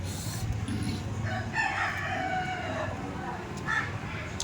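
A rooster crows outdoors, its rising call heard a little way off through steady background noise while people talk nearby.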